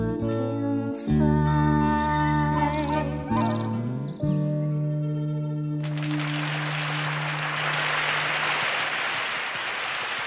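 After a stretch of tonal music, an audience at a concert in Carnation Hall bursts into sustained, dense applause that carries to the end.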